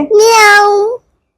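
A 15-month-old child imitates a cat with one loud, drawn-out meow, close up, followed by silence.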